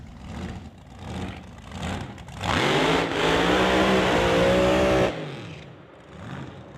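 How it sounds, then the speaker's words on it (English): A drag racing dragster at the West Coast Outlaw Shootout revs loudly for a couple of seconds between quieter engine pulses, a strong, sustained roar in the middle of the clip with no talk. "Dan LeKelt bringing up the dragster for Highway 97 Transmissions Kelowna."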